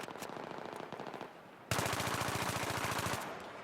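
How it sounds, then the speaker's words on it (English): Rapid automatic gunfire from a Battlefield match in a 5v5 tournament, two sustained bursts of tightly spaced shots, the second louder and denser, with no voices over it. "Putting a lot of rounds down range."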